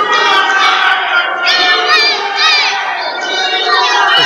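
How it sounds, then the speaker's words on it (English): A wrestling arena crowd chants USA in loud rhythmic unison, a dense roar of many voices with cheering and some higher shouts swelling throughout. "The crowd with a chance of USA trying to build him up"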